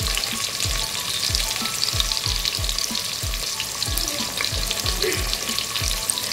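Onion, ginger and garlic fry steadily in a hot pan, a continuous close sizzle broken by a regular series of soft low knocks from stirring, with no talking.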